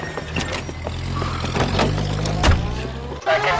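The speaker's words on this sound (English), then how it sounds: "That's the car, Cole. Just pulling out of the drive." In the video game LA Noire, a car pulls out of a driveway, its engine rumbling steadily at moderate distance with a brief clunk near the end, no talk over it.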